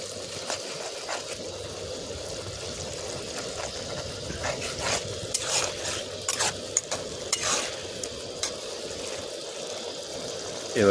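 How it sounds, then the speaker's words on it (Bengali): Spices being stir-fried in hot oil for chicken masala curry, a continuous close sizzle broken by frequent scraping and clinking of a spoon against the pan over about eleven seconds, with no voices. "এই যে মাংসের জন্য মশলা কষা চলছে।"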